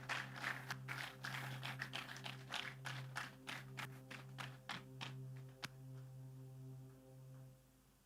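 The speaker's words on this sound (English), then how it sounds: "Keep clapping. Let's keep giving him a hand." Audience at a town hall meeting clapping for a speaker, a faint scattered patter of claps that thins out toward the end over a steady low hum.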